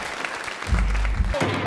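Audience applause at a Romanian show as the next young woman is introduced, a dense, even wash of clapping that continues throughout with a low rumble and some crowd noise mixed in.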